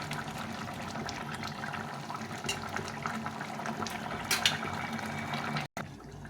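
Fish curry of bata fish with potato and eggplant simmering in a pot, a steady close bubbling and hissing boil that runs throughout with a brief break near the end.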